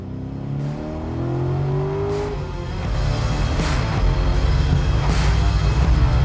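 A Ford Falcon revs and accelerates hard through the gears, its engine note climbing steadily and growing louder up close, with a loud sustained drive at the end.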